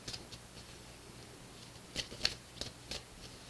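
Tarot cards handled and drawn from a deck during a reading, heard as a few faint, soft papery clicks and flicks that cluster near the end over a quiet background.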